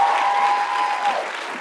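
Commencement ceremony audience claps in a dense, close burst that tapers off over under two seconds, with a brief sustained tone in the middle.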